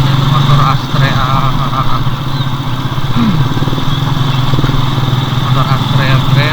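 Honda Astrea motorcycle engine running steadily at a low, even idle on a slick village road, loud and close throughout, with a voice talking over it.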